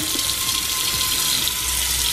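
Tap water runs steadily into a cooking pot in a home kitchen, a loud, close, continuous splashing rush that keeps on without a break.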